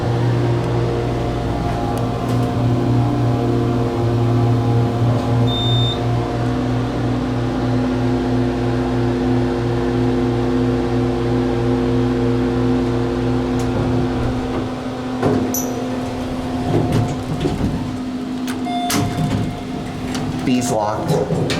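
A modernized Otis hydraulic elevator at a music school carries riders, giving a steady low motor hum with tonal drone bands throughout, a few clunks and shifts near the end, and faint voices nearby.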